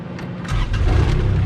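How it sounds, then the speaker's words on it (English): Kubota UTV engine cranking and catching, rising into a loud, rough, steady idle rumble from close by. "I apologize about the noise because we are in the Kubota UTV borrowed"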